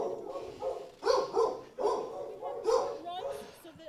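Shelter dogs bark repeatedly at a humane society, the sharp barks and yips coming close together with a whimper among them, under and between people talking.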